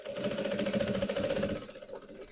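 A sewing machine stitches fabric for a bear backpack in a fast, even run of needle strokes with a buzzing motor drone. The sound is close and loud for about two seconds, then slows and fades as the machine stops.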